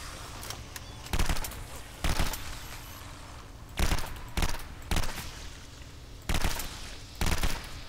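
Rifle fire in the video game Legendary: about seven short, loud bursts of automatic shots at irregular intervals over a low background rumble.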